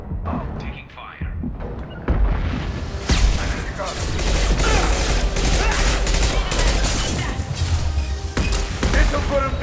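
Dense video game gunfire: rapid bursts and heavy booming shots pile up into a near-continuous loud barrage, with thuds and explosions mixed in.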